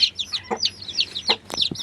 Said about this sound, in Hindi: और ये मुर्गी है हमारी